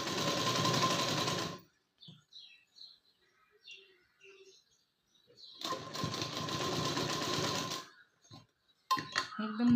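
A sewing machine stitches a prince cut blouse in two bursts of steady close rattling, each lasting a couple of seconds, separated by quiet pauses with faint bird chirps in the background.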